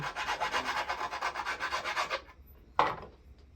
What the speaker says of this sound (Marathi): ह्याला पहिल्यांदा थोडं घासून घ्यायचं एक साईडला याप्रमाणे याला घासून घेऊ